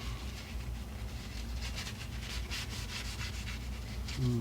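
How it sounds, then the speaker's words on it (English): Spindle of a Sony PS-T1 turntable being wiped clean, a soft continuous rubbing close by over a low hum, with a brief voice at the end. "we're going to clean off the spindle"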